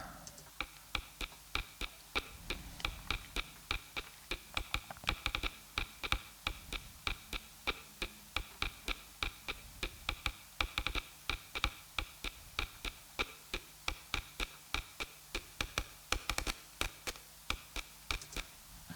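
A crisp, gritty ticking pattern repeats at a steady rhythm, each hit a dry, noisy one-shot sample processed with an erosion effect like a snare, with a low hum underneath.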